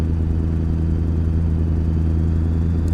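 Steady engine drone of cars passing in a driving video game, a continuous loud hum throughout with no talk.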